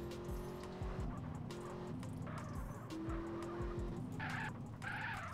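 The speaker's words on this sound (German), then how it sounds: "die Karre rutscht aber auch mal schnell" A car skidding in the video game GTA San Andreas, with repeated tire squeals and screeches over a steady engine drone.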